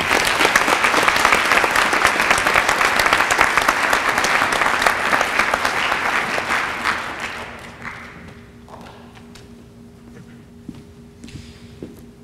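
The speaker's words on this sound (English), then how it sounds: "Round of applause." Audience applause at a military commitment ceremony, loud and close at first, a dense roar of clapping that thins out after about seven seconds into scattered claps, light taps and shuffling with a faint steady hum.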